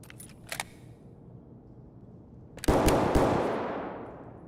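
Vepr rifle gunfire in the game Escape From Tarkov, a couple of quick faint pops followed by a single loud sharp shot that rings out and decays over a second or two.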